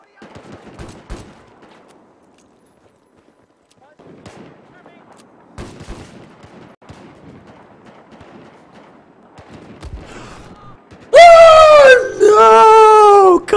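Battlefield 4 gunfire crackles faintly in scattered bursts, then two loud, close shotgun-like blasts with a ringing tonal sweep sound near the end, with brief game sounds between.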